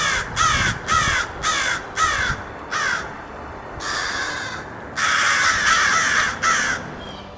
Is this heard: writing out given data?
no